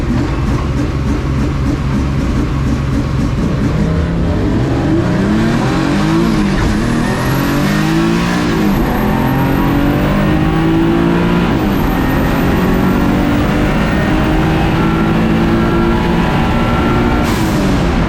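A turbocharged drag racing truck on 22 pounds of boost makes a test pass: a loud, close engine roar climbs in pitch through several gear changes and holds hard to the end.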